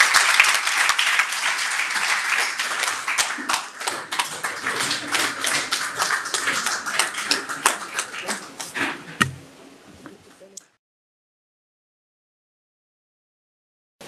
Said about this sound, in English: Another round of applause to the Honourable Minister.